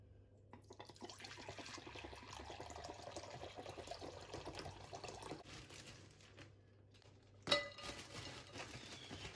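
Buttermilk drains from freshly churned homemade butter washed with water and ice, a soft continuous trickle and splash of liquid that runs steadily for several seconds, with a sharper splash near the end; faint and fairly close.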